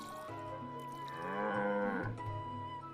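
A cow gives a single long, low, drawn-out moo that swells in the middle and then trails off, heard close and fairly clear over a quiet background in an anime scene.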